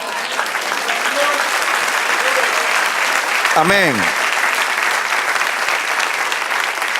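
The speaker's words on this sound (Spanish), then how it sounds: "Den un aplauso al Señor." Congregation applause in a church service, a steady crowd clapping throughout with a voice briefly speaking over it partway through.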